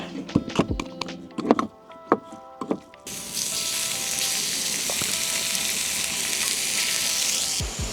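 Food sizzles and fries in a pan while a Thai dish with garlic cooks at a campsite near Mt. Hood, opening with several taps and thunks of a utensil before a loud, steady sizzle takes over.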